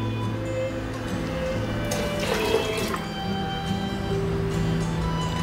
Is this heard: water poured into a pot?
yes